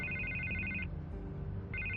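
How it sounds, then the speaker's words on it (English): A telephone rings in a Batman video game, a faint electronic trill that sounds, pauses and starts again over a low background hum. "I can't get the phone to stop ringing."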